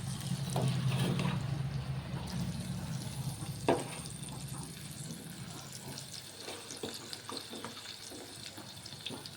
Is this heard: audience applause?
no